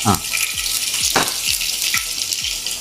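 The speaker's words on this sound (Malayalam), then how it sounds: "അപ്പൊ ഈ ചട്ടി ചൂടായി വന്നപ്പോഴേക്കും നമ്മൾ അതിൽ ഇഞ്ചി വെളുത്തുള്ളി പേസ്റ്റ് ഇല്ലേ?" Ginger garlic paste hits a hot pan and sizzles loudly and steadily up close, with a few sharp knocks and clicks from stirring mixed in.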